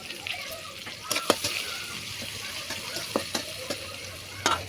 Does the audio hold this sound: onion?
yes